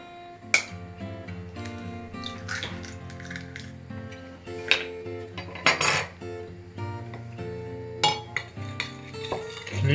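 Dough being mixed by hand from a single egg in a bowl in a home kitchen, with repeated clinks and scrapes of a utensil against the dish and steady stirring noise throughout, fairly close.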